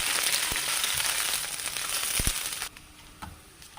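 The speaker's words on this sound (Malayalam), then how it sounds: "ഇനി നമുക്ക് നമ്മുടെ വറ്റലും മുളക് ഇതിനകത്തേക്ക് ഇട്ട് കൊടുക്കാം" Dried red chillies fry in oil for a chutney, giving a steady hiss with a few sharp crackles. The sizzle drops away abruptly near the end, leaving faint quiet clatter.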